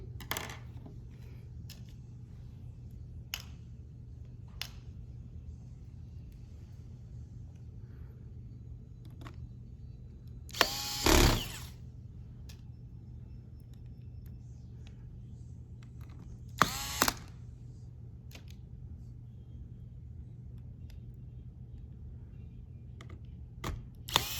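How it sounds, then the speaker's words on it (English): Small screws being driven into the keyboard of a Lenovo Yoga 11e Gen 5 laptop during reassembly: sparse light clicks and taps over a low steady hum, with two louder brief whirring bursts. "We're going to connect the keyboard screws."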